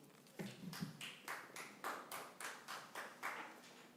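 Applause at a school board meeting, with a small audience clapping in quick, uneven bursts that come in distinct waves and stay moderately close in the room.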